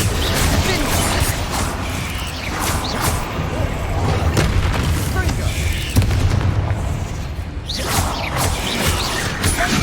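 Explosion spells and combat effects in the video game Hogwarts Legacy, fighting spiders, give loud repeated booms and crashes over a dense, noisy battle background throughout.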